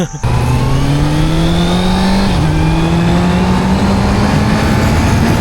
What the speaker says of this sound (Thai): ในส่วนของเครื่องยนต์4สูบเนี่ยคือเสียงมันโคตรเพราะเลย